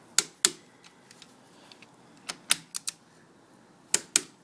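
Torque wrench clicking while tightening the oil drain bolt on a Kawasaki Ninja 250, with sharp isolated clicks in pairs and small clusters over a quiet background.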